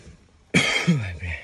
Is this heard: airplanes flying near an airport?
no